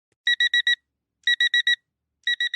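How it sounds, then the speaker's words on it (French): A phone alarm going off in three quick bursts of four bright electronic beeps each, evenly spaced and close, with silence between the groups and no voices. "Sa main tâtonne, cherchant à couper l'alarme de son téléphone. Son bip bip bip ne suffit pas"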